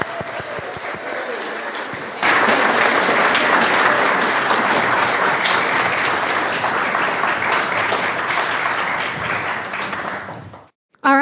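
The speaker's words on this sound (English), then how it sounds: "Please join me in welcoming these members with a hearty round of applause." A church congregation breaks into loud, sustained applause welcoming new members, rising suddenly after a quieter start and holding steady before cutting off.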